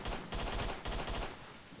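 Bursts of gunfire in the video game S.T.A.L.K.E.R.: Shadow of Chernobyl, three loud rapid volleys of shots cracking in quick succession, close and dense, with no speech over them.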